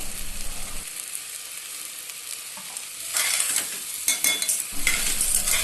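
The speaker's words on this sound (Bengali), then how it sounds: "এখন ধুয়ে রাখা চাল ডালগুলো দিয়ে দিচ্ছি" Washed rice and lentils going into a hot pan with salt and turmeric, stirred with a utensil: a quiet hiss that swells into louder, busy scraping and rustling, with sharp clicks from the spoon against the metal.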